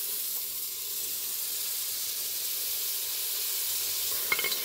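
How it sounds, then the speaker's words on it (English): Butter melting in a preheated pot for a Jamaican-style king crab rundown gives a steady, even sizzle and hiss throughout, with a few soft clinks near the end. "You toss your butter around and melt it"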